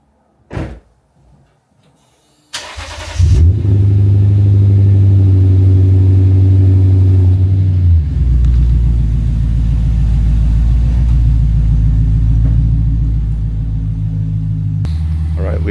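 A door thuds, then a Lexus RC F engine cranks and roars to life, settling into a loud, steady idle that rumbles on for several seconds.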